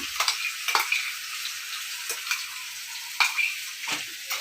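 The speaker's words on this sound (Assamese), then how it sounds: "পেষ্টটো অলপ সময় ভাজি ল'ম, কেঁচা গোন্ধটো যোৱালৈকে।" Spice paste fries in a pan for a duck and white gourd curry, a steady high sizzle broken by several sharp spoon scrapes and stirring knocks, with no one talking.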